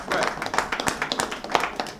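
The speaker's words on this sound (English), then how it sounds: "Let's clap for him in absentia" An audience at a CEO forum clapping, a dense run of overlapping claps that stays steady and close for a couple of seconds.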